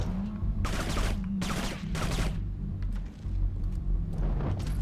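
Several loud bursts of rapid video game gunfire crackle in quick succession, separated by brief pauses with a low rumble underneath, from Kane and Lynch 2: Dog Days.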